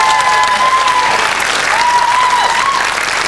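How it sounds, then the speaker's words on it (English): A studio audience claps steadily for a quiz contestant, loud dense applause running without a break, with a faint tone held underneath. "A round of applause for Alison."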